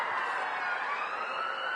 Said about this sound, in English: We got a corona ambulance there.